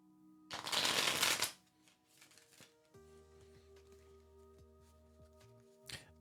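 Tarot cards are shuffled by hand in one loud, close riffle of about a second, followed by softer shuffling sounds over a low indoor hum, with a last short flick of cards near the end.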